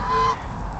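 Birds fighting over thrown bread give a single loud nasal honk lasting about a third of a second, close by, followed by quieter flock noise.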